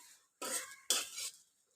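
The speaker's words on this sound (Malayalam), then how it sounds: "നല്ലവണ്ണം ഇളക്കും." Roasted coconut chammanthi podi being stirred in a pan with a metal spoon, giving two short scraping, clinking bursts close by with quiet pauses between, no voices.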